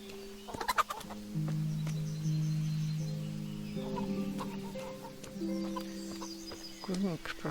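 Chickens cluck repeatedly around a chicken coop beside horse stalls at an inn in the video game Kingdom Come: Deliverance, with steady tonal game ambience underneath and brief clucking bursts near the start and end.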